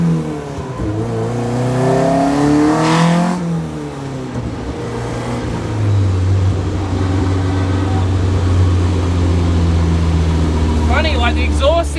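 A modified car's engine revs with loud, harsh throttle-body intake noise, rising and falling in pitch, then settling into a steady drone, close by with people talking over parts of it.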